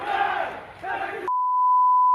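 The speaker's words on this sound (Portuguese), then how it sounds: "Protestos da torcida contra o time no aeroporto." Flamengo fans protesting against their team at an airport, a loud crowd of chanting, shouting voices that cuts off abruptly into a steady electronic beep tone.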